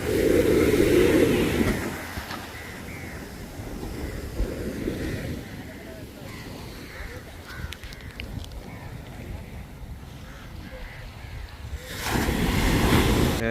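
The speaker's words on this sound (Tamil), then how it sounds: "கடற்கரைக்கு வந்துட்டேன் கடல் நல்ல சீராக இருக்குது" Calm sea waves wash onto a beach in Jaffna, a steady surf roar with wind buffeting the microphone, swelling louder at the start and again near the end.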